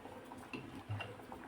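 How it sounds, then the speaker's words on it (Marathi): A spoon clinks and scrapes against a pot while jaggery is stirred into simmering drumstick dal with tamarind, a few faint soft knocks and scrapes close by, no voices. "गूळ छान यामध्ये मिक्स करून घ्यायचा"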